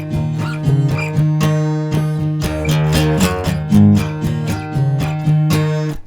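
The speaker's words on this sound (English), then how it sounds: "But you can sort of play with that theme with your acoustic" Acoustic guitar picking out a theme, with bright, steady plucked notes and ringing chord shapes played close and alone for about six seconds.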